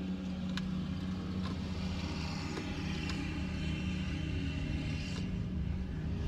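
A car pulling away from a parked position on a driving test route in Finglas, heard from inside as a steady low engine rumble with faint cabin noise and a few light clicks, no talk.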